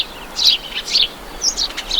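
Sparrows in Okhtyrka chirping in short bright bursts, a few quick chirps repeating through the clip, fairly close and clear over a quiet background with no talk.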